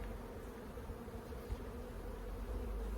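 Honey bees buzzing around an open backyard hive during a frame inspection, a steady faint swarm drone, continuous and close, with no talking.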